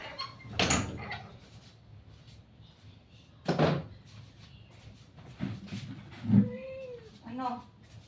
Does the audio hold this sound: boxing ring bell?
no